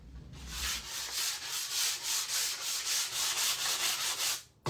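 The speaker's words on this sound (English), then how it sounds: "I'm going to sand over it real quick" Rhythmic back-and-forth sanding on painted wood, steady strokes about four per second, close and fairly quiet, ending with a brief pause.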